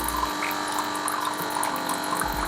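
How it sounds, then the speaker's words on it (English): Water is poured into a hang-on aquarium filter on a fish tank, giving a continuous close splashing rush with a bubbling gurgle, steady throughout. "pour some water in the filter"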